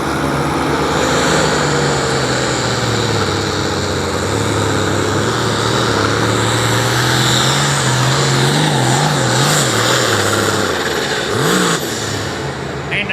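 A diesel pulling truck called the three-headed beast roars at full throttle during a truck and tractor pull, its loud engine note wavering and surging near the end, with no clear talk.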